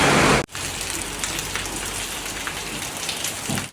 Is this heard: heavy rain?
yes